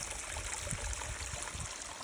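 Creek water runs over small rocks and roots along a hiking trail, a steady close rushing burble with soft low gurgles throughout, no voices.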